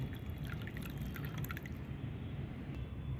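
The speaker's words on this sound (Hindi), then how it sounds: "कुछ इस तरह से ये हमने सारा पानी बाहर निकाल दिया है।" Water drains off washed used tea leaves in a soft, steady trickle with faint dripping, quiet and continuous with no voices.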